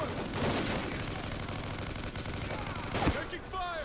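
Gunfire in the video game Call of Duty: Ghosts keeps up a dense, continuous crackle of rapid shots under game noise, with one louder report near the end.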